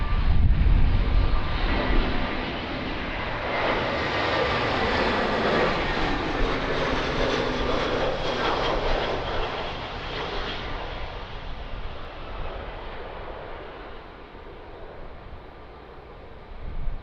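Airplane landing at Lisbon Airport in windy conditions: a loud jet engine roar dominates at first, then slowly fades and thins while low wind rumble buffets the microphone throughout.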